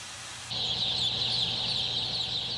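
Thousands of chicks fill a poultry shed with a dense, continuous high-pitched chorus of peeping, which rises abruptly and then holds steady and loud, with a low mechanical hum underneath.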